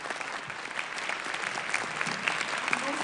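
A television studio audience applauding a singer, dense continuous clapping filling the room at moderate loudness, no voices over it.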